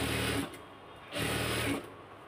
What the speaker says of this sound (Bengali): এভাবে সেলাই করব।